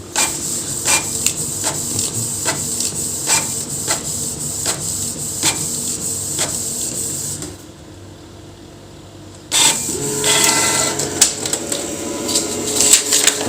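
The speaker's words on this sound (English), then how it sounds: "printer is printing" A Canon 3010 printer works with repeated mechanical clicks and rhythmic clunks, goes quiet for about two seconds, then resumes with busier whirring and clacking.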